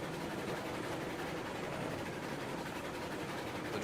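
Train rumbling along in the video game Railroads Online, a steady, continuous broadband roar of engine and rolling wagons, faint and unchanging throughout, no talking.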